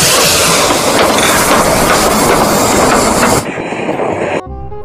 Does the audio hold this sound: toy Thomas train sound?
yes